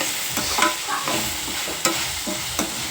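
Sago upma ingredients fry in a pan with a steady close hiss, punctuated by several light scrapes and taps of a spoon stirring through them.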